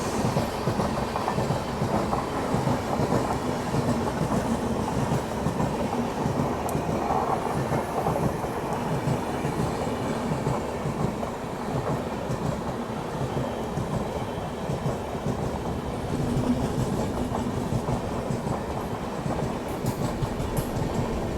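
The Chennai Rajdhani Express on the Nagpur to Bhopal route is heard from on board as it overtakes, with a constant loud rumble of wheels and carriages and steady clickety-clack throughout, no talking.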